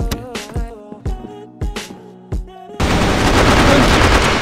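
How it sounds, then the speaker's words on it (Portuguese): Gunfire in a tactical shooter match: several separate loud gunshots with ringing tails, then a dense sustained burst of rapid fire. "Um monte de tiro."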